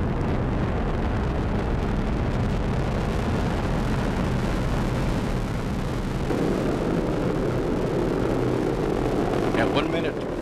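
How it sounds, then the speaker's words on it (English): A SpaceX Falcon 9 first stage in flight during launch makes a continuous, heavy rumbling roar that fills the whole span, distant and steady, with a faint mid-range swell near the end. "First stage propulsion performing normally."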